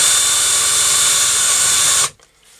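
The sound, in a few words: drill or countersink bit on motorcycle throttle part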